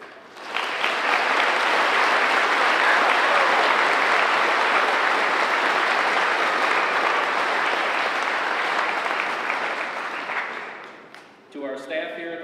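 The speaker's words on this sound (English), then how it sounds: "Let's give a round of applause to all the parents, family members, and friends in attendance tonight" A large graduation ceremony crowd gives loud, sustained applause for parents and families, a dense wall of clapping that holds steady for about ten seconds, then fades out as a voice begins speaking.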